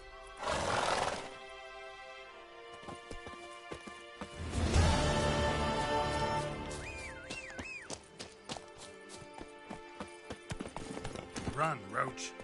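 Roach, the horse in The Witcher 3, snorts and whinnies loudly near the start, then clip-clops at a steady gallop under a voice and a swelling game score.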